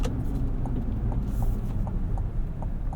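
Cabin drone of a 2024 Chevrolet Colorado ZR2 pickup in two-wheel-drive normal mode merging onto a highway, a steady low rumble of engine and road noise with faint rhythmic ticks, continuous and close.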